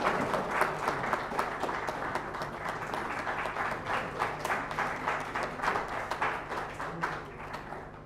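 Applause at an academic inauguration ceremony for a professor: a moderate crowd clapping in a steady, fairly even rhythm, with individual claps audible, sustained for several seconds before tapering off.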